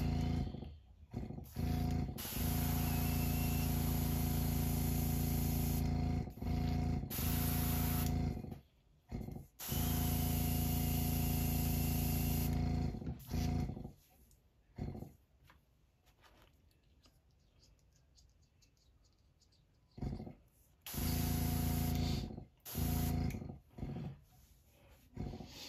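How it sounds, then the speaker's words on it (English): An airbrush being cleaned out while painting a custom glide-bait fishing lure gives several loud hissing bursts of spray, separated by short quiet pauses and one longer lull, heard close up. "Clean your airbrush out real quick."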